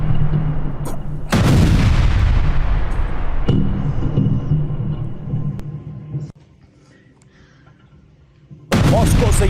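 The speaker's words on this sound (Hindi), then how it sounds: "देखिए किस तरह से ड्रोन का मलबा नीचे गिरता और उसके बाद होता है जबरदस्त धमाका।" In Moscow, drone debris falls and a loud blast booms and rumbles away, followed by a second heavy explosion and crackling, then quiet before another sharp burst.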